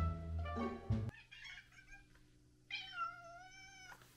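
A house cat begging for a treat meows twice in quick succession, each call drawn out and wavering, clear and close, after a brief burst of other indoor noise at the start.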